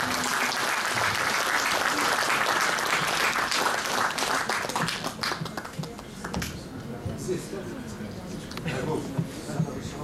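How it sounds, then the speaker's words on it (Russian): Audience applause greeting a guest at a Victory Day event held by the Kazakh national-cultural autonomy in Moscow: dense, loud clapping from a crowd that thins and scatters in the last few seconds, with voices mixed in. "Аплодисменты ваши"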